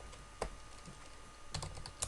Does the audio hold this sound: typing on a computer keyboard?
yes